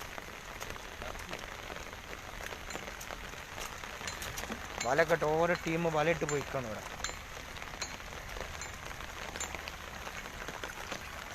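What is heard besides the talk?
rain falling on paddy fields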